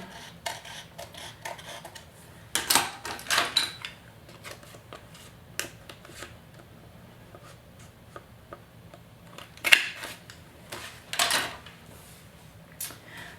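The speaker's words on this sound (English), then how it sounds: "I think I'm just going to do it with scissors" Scissors snip through paper in scattered bursts of crisp cuts, close and fairly quiet, with rustling and handling noises between them.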